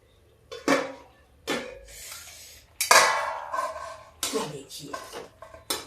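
A metal pot of turnip and pea curry being handled and covered with a lid: several loud, close clanks and scrapes of metal against metal, spaced apart, with someone speaking between them.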